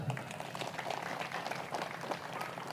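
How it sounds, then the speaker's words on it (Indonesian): Steady applause from a crowd at a religious lecture, a dense wash of clapping that stays even and fairly loud throughout. "Tepuk tangan."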